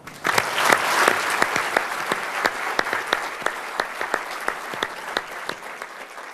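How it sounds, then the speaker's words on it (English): An audience at the 2005 IEEE Honors Ceremony dinner claps for a medal recipient, a sustained, moderately loud round of applause with distinct individual claps standing out near the front. "please join me in a round of applause honoring the 2005 recipient of the IEEE Richard W. Hamming Medal, Dr. Neal Sloane."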